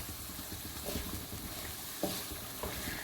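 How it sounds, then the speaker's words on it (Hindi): Chicken fries in a pan for a chicken and potato gravy, a soft steady sizzle with occasional stirring scrapes and clicks, heard close and fairly quiet. "इनमें भून लेंगे।"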